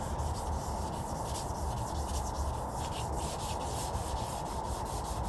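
Wet sandpaper scrubs across a stained headlight lens in a continuous close, even rasping rub with no pauses or voices.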